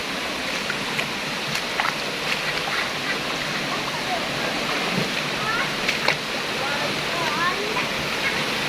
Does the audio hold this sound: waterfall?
yes